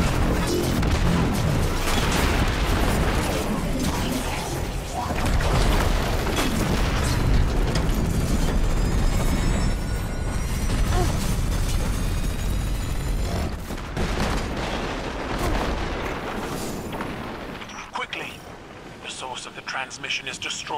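Artillery strikes in Destiny 2 boom repeatedly, loud heavy blasts and crashes layered over a busy battle din, with a voice speaking partway through before the noise thins toward the end.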